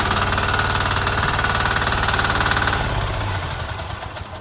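A motocultivator's small tractor engine runs nearby with a rapid, hard knocking chug that stays steady and loud, then drops lower and quieter near the end as it eases toward idle.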